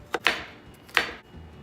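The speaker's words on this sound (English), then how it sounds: "Chop up our cucumber." Two crisp knife chops through cucumber on a cutting board, close and clear, spaced under a second apart with quiet in between.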